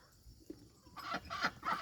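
Backyard chickens cluck close by in short rhythmic bursts that grow louder toward the end, with a faint click earlier and no talking.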